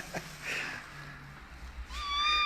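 A cat meows shortly after a caesarean delivery of six kittens, giving a couple of faint, brief cries followed by a clearer, rising meow near the end, close by in a quiet room.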